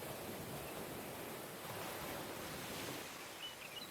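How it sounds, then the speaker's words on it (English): Continuous soft rain hiss on a roof, even and unbroken, with a couple of faint, distant bird chirps near the end. "light rain on roof with some birds sounds like what we need"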